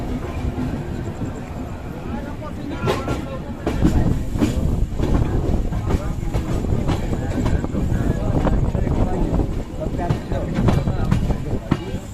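The LTT RXL Karmbhoomi Express passenger train (12546) runs nonstop, its wheels rumbling and clattering steadily over the rails, growing louder partway through, with voices faintly audible in the carriage.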